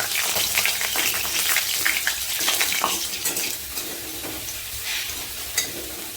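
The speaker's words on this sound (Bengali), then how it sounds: "একটু ভাজা হয়ে গেলে এটা তুলে নেব।" Dried red chillies crackle and spit in hot mustard oil, a loud sizzle with frequent sharp pops that eases slightly toward the end.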